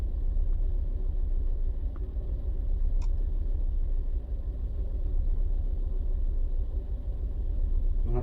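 A 2003 Mini's engine idles with a steady low rumble and a slight stumble, running continuously and close by.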